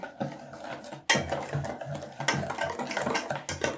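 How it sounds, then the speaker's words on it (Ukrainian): Egg and sugar with starch being stirred in a bowl, giving a close run of scraping, clinking utensil strokes that pause briefly after a second, then resume in a steady rhythm to the end. "Розтерла яйце з цукром, висипаю крохмаль сюди. і перемішую."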